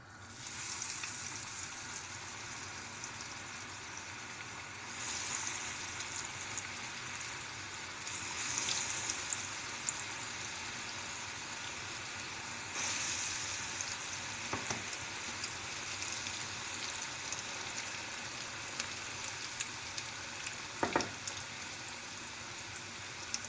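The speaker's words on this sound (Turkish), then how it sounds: "Şimdi iyice kızarmış yağımızın içine atıyoruz ve pişiriyoruz." Continuous crackling sizzle of paçanga pastry rolls deep frying in hot oil, steady throughout with occasional louder bursts and light clinks.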